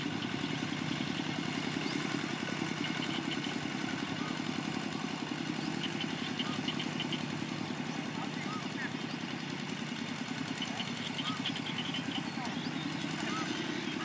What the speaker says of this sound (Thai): มาดูรถไถเดินตามครับ